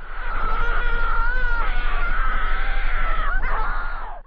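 A creepypasta horror effect of a horrible murmur and muffled, distant screams, a sustained wavering wail with a constant low drone beneath, loud and unbroken, with no speech.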